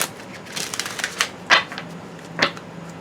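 Tarot cards shuffled by hand, a few crisp riffling bursts and flicks at close range, separated by short quiet gaps, with no talking.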